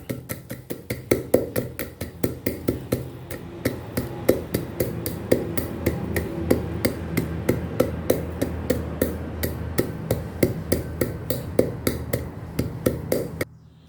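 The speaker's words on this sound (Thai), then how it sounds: "ตำแค่พอให้ เมล็ดพริกไทย เราแตกนะครับ เราไม่ต้องไปตำละเอียดมากนะครับ" Black peppercorns are pounded in a mortar and only coarsely cracked, not ground fine: a steady run of sharp, evenly spaced thuds, roughly three per second, close and loud with no talking.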